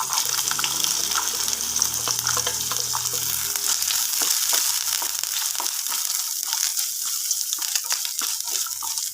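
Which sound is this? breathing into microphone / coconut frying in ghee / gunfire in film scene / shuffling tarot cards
coconut frying in ghee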